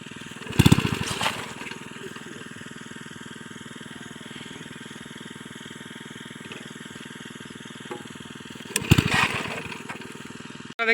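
An irrigation water pump engine runs in a rice field with a steady, moderately loud drone throughout, broken by two brief louder clattering bursts near the start and near the end.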